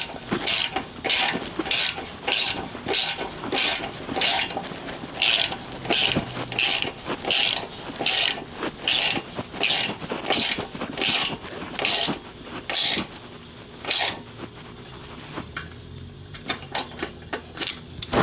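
A ratchet clicks in rapid bursts while tightening a new chrome-plated bolt on the gas tank of a 1995 Harley-Davidson Softail in a home garage, with repeated sharp pawl clicks in quick runs and brief pauses and no talk.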